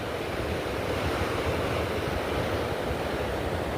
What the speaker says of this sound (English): listening to the ocean